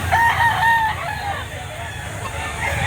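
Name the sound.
rooster crowing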